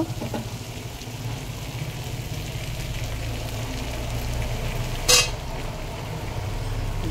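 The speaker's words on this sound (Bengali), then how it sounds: "দিয়ে আমি মশলাটাকে আবার কষিয়ে নেব।" Masala with turmeric fries for a mutton curry, giving a steady, close sizzle and crackle throughout, with one brief sharp click partway through.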